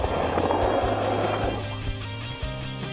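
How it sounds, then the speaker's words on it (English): P1 Superstock powerboats race off Eastbourne in the English Channel, their engines giving a steady droning roar with a high whine layered on top. The noise is continuous and loud, with no voices. "the sight and sounds of powerboats racing around the English Channel"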